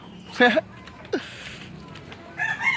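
Chickens cluck and a rooster crows in the background, with voices talking over the outdoor noise.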